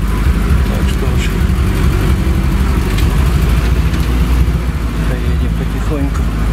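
A car rolls slowly along a rough track, its engine a steady low drone with loud rumble and scattered bumps and knocks, while people talk over it.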